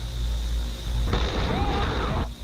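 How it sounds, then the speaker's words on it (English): An explosion in an underground area where a strong fire is burning: a sudden loud broad burst and rumble that breaks over an ongoing noisy background and then cuts off abruptly. "Oh, shit. Explosion."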